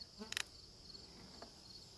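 Honey bees buzzing in a hive, a faint, steady insect drone with a brief rustling flutter near the start.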